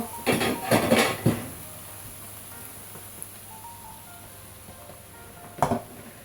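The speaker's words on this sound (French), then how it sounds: "Je mets la marmite en place." A cooking pot is set in place on a stove while beef with okra cooks, with a few close metallic clanks and scrapes up front, then a quiet hiss and one more sharp clank near the end.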